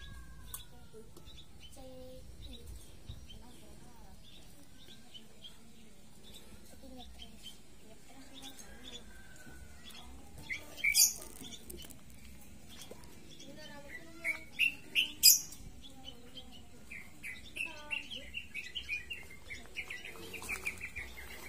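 Many birds chirp around a Javanese village, giving scattered high tweets and short trills that cluster more densely in the second half. The calls stay moderately faint over a low background hum.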